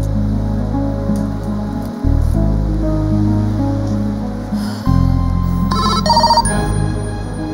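A mobile phone rings on an unanswered call, a steady electronic ringtone melody repeating in loud tonal bursts, with brief brighter chiming notes near the end and no speech.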